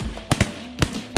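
Shotgun blasts fired at ducks in a field, four sharp reports in quick uneven succession, loud and near with no talk.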